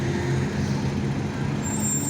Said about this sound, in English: Oh, look, there goes a Waymo self-driving car.